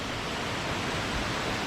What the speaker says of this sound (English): This waterfall has no name